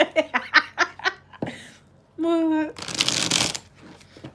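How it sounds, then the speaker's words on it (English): Tarot cards riffle and shuffle in a few bursts, with a short laugh and some talk mixed in between. "Let me just shuffle here."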